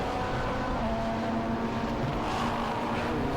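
A rotary-engine Mazda RX-7 touring car races around Silverstone in a classic touring car event, its engine a steady, loud, buzzing roar that holds throughout with a slight rise in pitch near the end.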